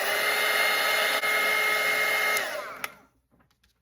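Hair dryer blowing over a watercolor painting to dry masking fluid, a loud steady whine that is switched off partway through and winds down into near silence.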